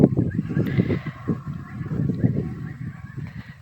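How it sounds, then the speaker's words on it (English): Bulls carry on near a tree while cows are nearby, giving loud, close, repeated bellowing and snorting calls in uneven bursts, with some scuffing of the ground underneath. "These bulls are carrying on. all that noise, scratching the ground."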